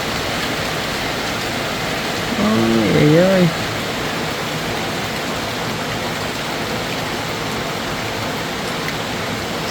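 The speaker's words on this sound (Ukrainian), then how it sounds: "Дощик посилюється." Steady, dense rainfall hisses throughout like a constant wash of noise in a yard, while a voice briefly exclaims over it.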